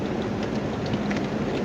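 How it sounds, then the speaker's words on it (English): Steady rain falls on a surface nearby, a dense continuous patter with a low rumble beneath it and no voices. "Oh, we got rain."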